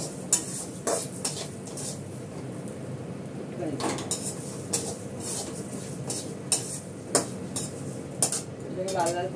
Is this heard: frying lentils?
yes